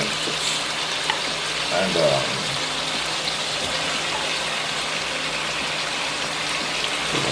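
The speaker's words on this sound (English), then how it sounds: "I'm going to add my onions and tomatoes." Onions and tomatoes sizzling as they go into a pan of stir-fried pork, a steady close frying hiss with a brief clatter, and a voice speaking a word early on.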